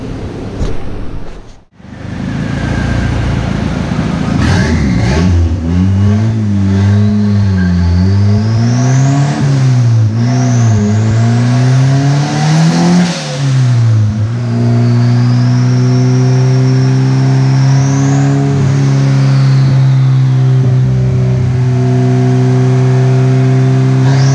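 A 1986 Honda CRX with a turbocharged LS-VTEC engine revs hard on a dyno, its loud engine note climbing and falling in pitch several times before holding a high steady drone.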